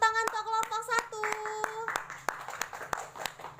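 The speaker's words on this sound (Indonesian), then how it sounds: "Tepuk tangan untuk kelompok 1." Hands clapping for group 1 in a virtual primary-school civics lesson, a short burst of sharp, distinct claps over a bright sustained musical tone, fairly close and fading into a looser patter.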